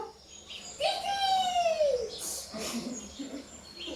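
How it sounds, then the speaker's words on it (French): A bird calls once with a clear, rising-then-falling whistled note, followed by a couple of short chirps against soft outdoor background noise. "Et tes amis les oiseaux, tu les entends?"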